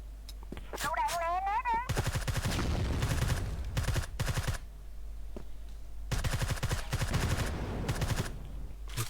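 Loud bursts of rapid machine-gun fire, likely from a game, break out in two long volleys separated by a quieter gap, mixed with a whistling sweep and scattered single shots; a voice briefly speaks near the start.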